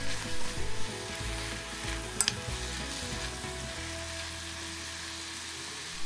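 Seaweed being stirred and cooked in a pot for Korean miyeok-guk: a continuous soft sizzle with one sharp clack partway through.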